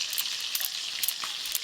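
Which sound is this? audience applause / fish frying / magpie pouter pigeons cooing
fish frying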